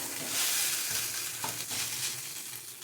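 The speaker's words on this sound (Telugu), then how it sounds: "బాగా హై ఫ్లేమ్లో ఉంచి ఒక 3 నుంచి 4 నిమిషాలు టాస్ చేయాలండి." Coriander fried rice tossed in a pan over a high flame, a steady loud sizzle with scraping stir noises running throughout, no voices.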